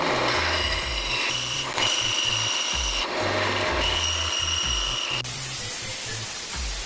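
Two-stroke engine crankcases from an 873 cc four-cylinder build being cut dry without cutting oil: a loud, continuous grinding rasp with a rhythmic low chugging pulse, steady and close throughout.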